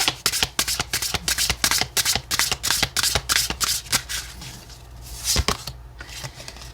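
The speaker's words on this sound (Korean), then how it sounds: "먼저 현재 상황의 카드를 뽑아보도록 할게요" Tarot oracle cards shuffled and drawn close up, a rapid run of crisp riffling and slapping bursts in an uneven rhythm, with no talking.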